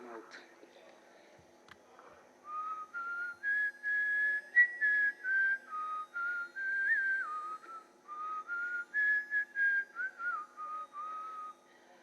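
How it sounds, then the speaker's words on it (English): Someone whistles a melodic tune alone, a run of short phrases with brief pauses between them, clear and close after a quiet start. "First I will whistle."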